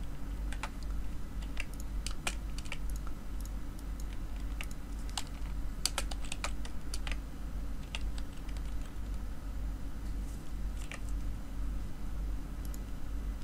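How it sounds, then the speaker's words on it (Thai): Thai text being typed on a computer keyboard, with irregular bursts of close key clicks over a steady low electrical hum. "พิมพ์ภาษาไทยด้วยก็ดี จะได้รู้เรื่องเลย"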